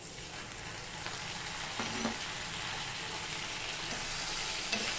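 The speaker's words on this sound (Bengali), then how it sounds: "আমি কষিয়ে নেব আবারও ঢাকা দিয়ে দিয়ে কষিয়ে নেবো" Tomatoes, green chillies and ginger sautéing with onion in a pan for Bengali fish curry, a continuous close hiss of frying with a few faint stirring scrapes, steady throughout.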